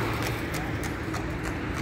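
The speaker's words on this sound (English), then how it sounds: "Horses everywhere, so you can just ride with them and see the city." Horse hooves clip-clop at a steady walking rhythm on the streets of a Moroccan city, close and distinct, with people talking over them.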